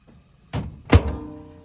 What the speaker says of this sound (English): So first thing we're going to do is put it into the microwave